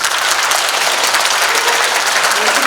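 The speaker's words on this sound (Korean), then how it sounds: "뜨거운 박수 부탁드리겠습니다." Sustained audience applause fills a book launch event hall, a dense, steady clapping that stays loud and even throughout with no talk over it.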